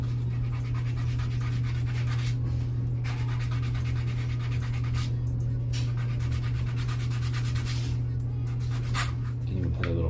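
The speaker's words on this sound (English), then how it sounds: "I just take a little piece of sandpaper" A small piece of sandpaper rubs against a faucet valve bonnet in short, rhythmic scratching strokes over a constant low hum.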